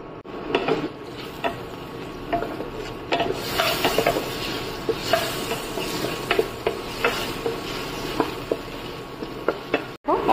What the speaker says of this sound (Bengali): সর্ষের তেল দিয়েছি, তাতে আলুগুলোকে আগে ভেজে নেব